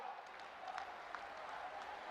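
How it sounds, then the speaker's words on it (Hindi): Applause from a crowd at an inauguration of nine medical colleges in Uttar Pradesh, a steady, faint wash of many hands clapping throughout, heard at a distance. "मैं चाहूंगी सभी के लिए आप एक बार जोरदार तालियां बजा दें।"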